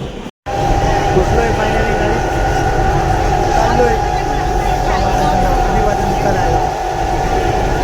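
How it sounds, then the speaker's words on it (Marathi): Loud, steady rumble of a train arriving at a station in Dadar, Mumbai, rolling along the tracks, constant roar throughout after a brief dropout at the start. "आता ट्रेन येईल आमची इथं बघा."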